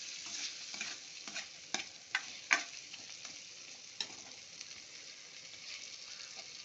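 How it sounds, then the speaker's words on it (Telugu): Drumstick curry being stirred in oil in a pan, a soft continuous sizzle with scattered scraping clicks of the spoon against the metal, steady and fairly quiet throughout. "5 నిమిషాలు కొంచెం కలుపుతూ ఉండండి మాడకుండా"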